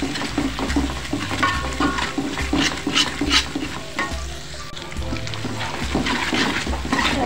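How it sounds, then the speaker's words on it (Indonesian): Spice paste with crushed galangal sautéing in a pan, a steady sizzle broken by repeated stirring scrapes and light bubbling, continuous and close, no voices. "kita tumis bumbunya sampai benar-benar matang"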